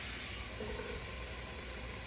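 Broccoli sautéing in a hot pan, a continuous soft broadband hiss of sizzle and steam, steady and close with no talk.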